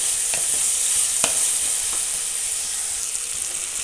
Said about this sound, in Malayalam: ഇതിലേക്ക് നമുക്ക് കുറച്ച് കറിവേപ്പിലയും കൂടി ഇട്ട് കൊടുത്തിട്ടുണ്ട് കേട്ടോ. ഇതെല്ലാം കൂടെ കിടന്ന് ഒന്ന് മൂക്കട്ടെ.